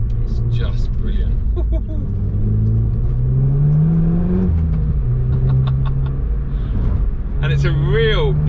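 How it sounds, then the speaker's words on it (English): A Renault Mégane Trophy R engine with a titanium Akrapovic exhaust hums and rises in pitch as it revs through the gears, heard from inside the car under continuous talk. "It sounds great, really good exhaust note through that titanium Akrapovic"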